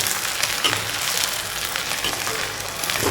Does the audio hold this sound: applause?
no